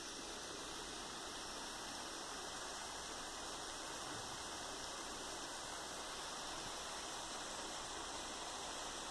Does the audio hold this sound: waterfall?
yes